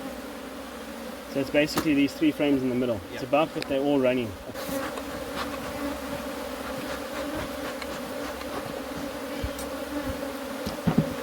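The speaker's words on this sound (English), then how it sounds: "Just lots of bees hanging here as well. Good box of bees." Honey bees buzz steadily around an open, thickly populated hive box on its first inspection, a dense continuous drone under brief talk from two people at the start, then droning on alone.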